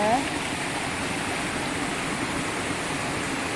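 A river swollen after days of rain in the Philippines pools and then drops over a small fall, making a steady, broad rushing roar that stays even and close throughout, with no other sounds on top.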